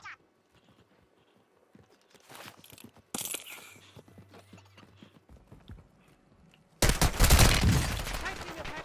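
Gunfire in a video game: a quiet stretch of scattered clicks and rustle, then a loud, dense burst of shots near the end.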